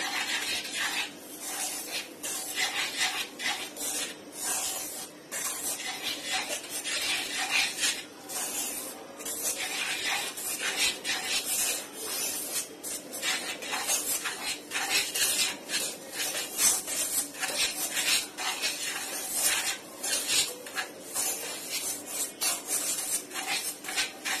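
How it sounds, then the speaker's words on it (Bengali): Dry ingredients for a Japanese chocolate cotton cake are stirred into oil with a utensil, making steady scraping and rubbing against the bowl in an uneven rhythm for the whole stretch, close up and without talk. "এখন একটু নেড়ে চেড়ে নিচ্ছি।"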